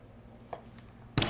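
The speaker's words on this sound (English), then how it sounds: "I'm gonna take this knife and I'm just gonna cut" A knife cuts into a cardboard box holding a new microwave, giving a soft scrape or two followed by a sharp, loud slicing burst at the end, close by and without talk.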